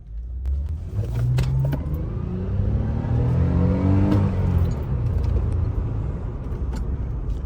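An Acura TL accelerates hard in a pull, its engine note climbing steadily through the revs, loud and close throughout with road and wind noise underneath.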